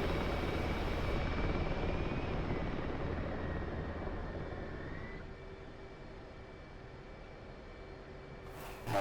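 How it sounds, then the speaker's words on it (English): A helicopter passes overhead in the flight sim DCS, heard as a steady, broad engine and rotor rumble that eases slightly partway through, with no talking. "Nice chopper up there."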